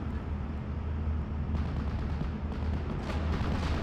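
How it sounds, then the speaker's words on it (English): Mortar rounds landing on infantry in the Steel Division: Normandy 44 war game, a constant low battlefield rumble with a few dull, distant thumping impacts rising out of it. "Mortar's going to be hitting the Ersatztruppen there"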